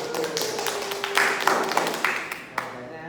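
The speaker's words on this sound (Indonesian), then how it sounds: "Tepuk tangan dulu untuk kelompok" Students in a classroom give a short round of applause for a group, a few scattered claps and taps rather than a full ovation, under a murmur of voices.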